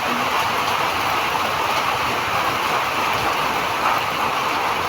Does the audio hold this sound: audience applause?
no